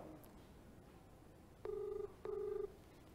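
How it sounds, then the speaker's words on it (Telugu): Call-waiting tone on an engaged phone line: two steady electronic beeps, each about half a second long with a short gap between them, heard clearly over a faint background hiss. "ఏసీపీ నిఖిల్ ఫోన్ ఎంగేజ్ లో ఉంది, వేరే ఎవరితో మాట్లాడుతున్నాడు, వెయిటింగ్ వస్తుంది."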